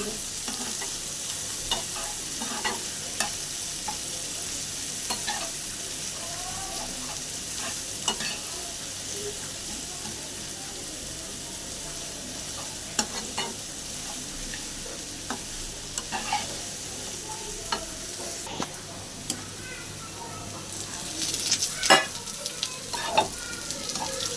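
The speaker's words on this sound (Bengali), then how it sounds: "পিসটা অল্প একটু ভেজে নিচ্ছিলাম" A piece of food fries in a pan with a soft, steady sizzle at fairly low level, dotted with occasional clicks and utensil taps that grow busier toward the end, with no voices.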